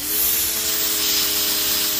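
A Powryte 3800R electric pressure washer sprays a car with a steady, loud, hissing water jet and an even motor hum, continuous and close with no pauses.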